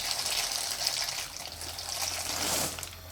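Steady rushing water pours continuously into a cooking pot for pasta for a few seconds, close and fairly loud, with a hissy, splashing texture and no voices.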